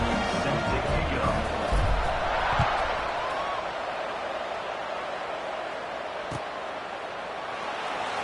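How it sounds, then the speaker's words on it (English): Football stadium crowd at an Indiana vs Mississippi State game, a broad steady roar of many voices buzzing after a score, loud and continuous with a few louder swells early on. "this crowd is buzzing after that last score"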